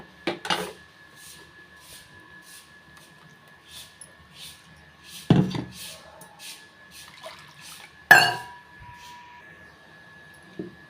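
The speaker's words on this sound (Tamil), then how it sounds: "கொஞ்சமாக தண்ணி வந்து ஆட் பண்ணிக்கிறேங்க" Water trickles faintly into a pot of vegetable kurma, with a few sharp clinks of metal and a steady kitchen hum in the background.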